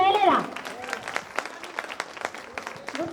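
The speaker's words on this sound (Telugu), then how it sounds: "అట్లా ఒక్కసారి 3 క్లాప్స్ కొట్టండి." Audience at a 2007-2008 batch alumni reunion clapping: a short voice at the start, then a run of sharp, evenly spaced claps from a group, moderately loud.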